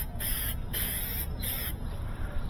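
Spray paint is applied along the corner of a washer or dryer. It makes three short, sharp hissing bursts separated by brief pauses over a low background hum.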